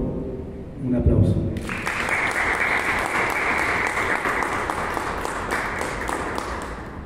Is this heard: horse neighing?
no